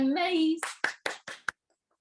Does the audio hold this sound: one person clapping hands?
yes